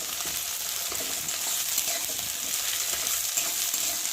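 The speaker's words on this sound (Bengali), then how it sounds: "তেলটা গরম হয়ে গেছে, আর এখন আমি পেঁয়াজগুলো দিয়ে ভালো করে ভেজে নেব। পেঁয়াজটা একটু ভালো করে নেড়ে দেবো" Onions frying in hot oil while being stirred, a dense, even hiss of sizzling with faint scraping underneath, close-up and steady throughout with no talking.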